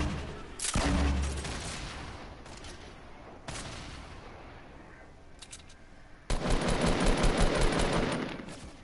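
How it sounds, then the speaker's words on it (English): Grenade launcher fire in a solo-mode shooter game: a burst of booming shots near the start, a quieter middle stretch with scattered hits, then a dense run of rapid gunfire near the end, loud and close. "Grenade launcher"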